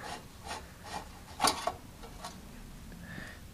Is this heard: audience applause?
no